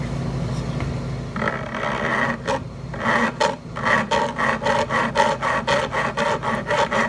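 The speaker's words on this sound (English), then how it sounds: "We want to take our fret file here and we want to bevel the edges of these frets" A fret file rasps along the fret edges of a Vega Tubaphone tenor banjo neck, beveling them. Slow rubbing strokes give way to a quick, regular series of close, loud scraping passes.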